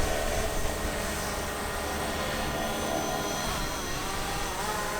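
A DJI Mavic 2 Zoom drone flies in active track mode beneath trees in blowing wind, giving a steady, even whine that holds throughout at moderate distance.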